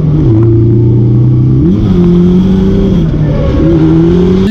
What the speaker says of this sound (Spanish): pisas embrague a fondo, le das gas a fondo,